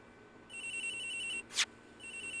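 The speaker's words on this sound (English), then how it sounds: "Hey, Jesus' phone! It's ringing from somewhere, sir." A phone rings in the Ace Attorney Investigations video game, an electronic ringtone pulsing in steady tones that pause briefly, broken by a short sharp blip, then resume.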